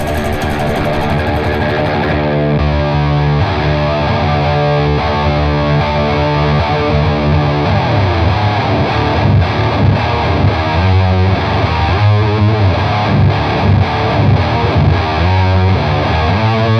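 A distorted electric guitar through an amp with a chunky, heavy low end, played as thick, saturated riffs and sustained chords that ring loud and continuous with no talk.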